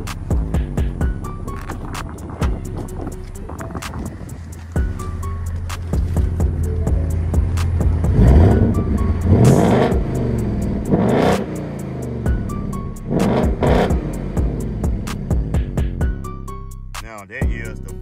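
A 2021 Ford Mustang GT with an H-pipe exhaust in place of resonators revs repeatedly from idle, loud rising and falling engine roars with deep burbles between the blips, recorded up close.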